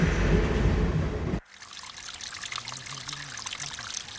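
Reddish, metal-laden water of the Río Tinto river in Huelva province trickles and burbles after a loud burst of rushing noise cuts off abruptly.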